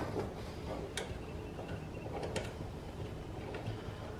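Wrench clicks and ratcheting ticks as a nut is loosened on the brake of a Club Car Precedent golf cart, a few sharp close taps over a quiet background.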